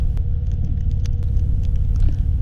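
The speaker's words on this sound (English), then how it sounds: "It is a downpour at this moment" Heavy rain patters steadily beneath a continuous low rumble from a motorcycle ridden through a downpour in the evening, with scattered drop ticks close by.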